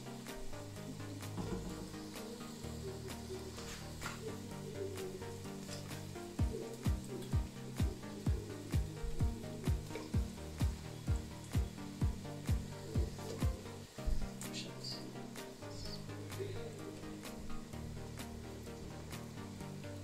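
Croustillons dough fries in hot oil with a soft, continuous bubbling sizzle, broken midway by a run of regular sharp ticks or taps, all fairly faint and with no talk.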